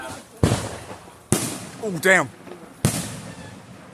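Small backyard fireworks show: several sharp firework bangs spaced irregularly, each followed by crackling, with a whistling rise in the middle and excited voices reacting between blasts.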